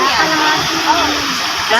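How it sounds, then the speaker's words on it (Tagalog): Strong current of rain-swollen water rushing steadily at a dam in Barangay Bucal, Magdalena, Laguna, a continuous loud broadband roar close by, with people talking over it. "Mababaw lang, malakas lang yung agos"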